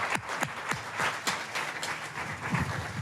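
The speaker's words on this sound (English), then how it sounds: "ladies and gentlemen, round of applause." An audience applauds after a speaker is introduced at an Appalachian media event, with scattered claps that come through as sharp individual hits over a steady wash of clapping.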